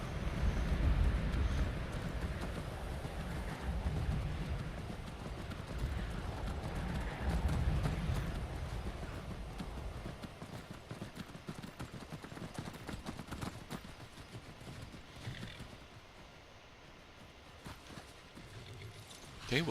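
Horse hooves clip-clop in the Skyrim video game, a brisk rhythmic stream of hoofbeats that is loud at first and then eases off, with a brief whinny and a few faint background sounds.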